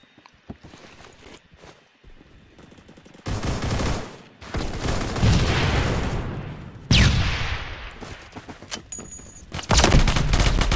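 Gunfire in the shooter game Phantom Forces comes as dense, loud rapid bursts and sustained automatic fire, broken by footsteps and quieter gaps, with chaotic battle noise throughout.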